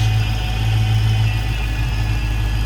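A 2016 Dodge Challenger SRT Hellcat's supercharged 707-horsepower Hemi V8 idles with a steady deep rumble, a high supercharger whine riding constantly on top, close and loud.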